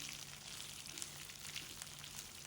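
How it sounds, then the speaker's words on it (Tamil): Coriander seeds and a lemon-sized lump of tamarind sautéing in a pan, a steady, soft sizzle with a faint crackle running evenly throughout, no talking over it. "நல்லா வதக்கி விடுங்க."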